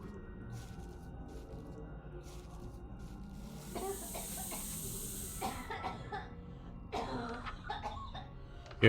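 Breathy hissing sounds in a horror dating game, broken and raspy like a snake or a spray, strongest in the middle of the clip over a low ambient background.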